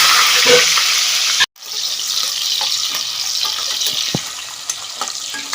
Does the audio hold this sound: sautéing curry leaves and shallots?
yes